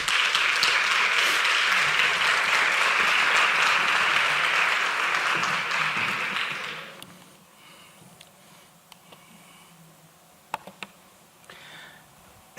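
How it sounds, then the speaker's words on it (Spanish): Audience at a parapsychology conference applauds loudly and steadily for several seconds, then the clapping fades out, leaving a quiet hall with a few scattered clicks. "Un fuerte aplauso para José Luis."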